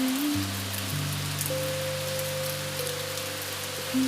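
Rain falls on a Tokyo night as a soft, steady hiss under low sustained musical tones, calm and unchanging throughout.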